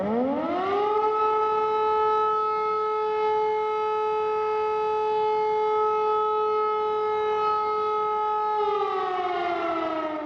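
An air-raid siren in Ukraine wails loud and steady, rising to a sustained tone that holds for several seconds before starting to wind down.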